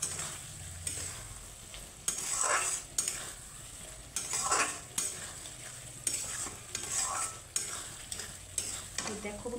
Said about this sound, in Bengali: তো বটবটির সাথে সুন্দর করে মিক্স করে নেব মশলাটা।